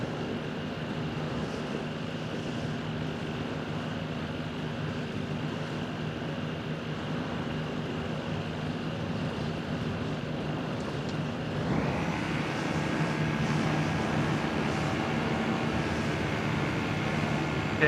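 Aircraft in a video game, an Ultroid craft that needs little runway, taking off over the Tampa Bay area: a steady droning engine hum that swells and rises in pitch partway through.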